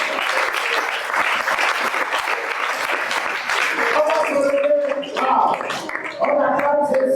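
A church congregation claps and cheers in acclamation of Jesus, sustained, loud applause filling the room, with voices rising over it in the second half.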